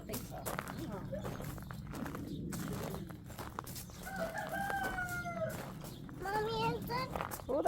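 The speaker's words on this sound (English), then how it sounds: "Oh, that's a nice rooster." Rooster crowing with a few clucks from farm fowl, heard mid-distance in two drawn-out calls amid footsteps and someone talking nearby.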